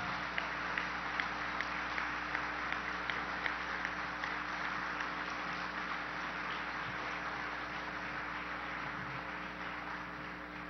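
An audience at a summit dialogue between social actors and government gives sustained applause for Socorro Ramírez, a steady wash of clapping over a constant background hum.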